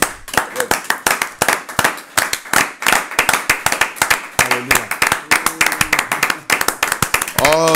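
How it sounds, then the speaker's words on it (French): A church congregation claps and applauds, sharp hand claps coming thick and fast with a few voices calling out and short sung or shouted tones near the end. "On acclame la parole, mes amis"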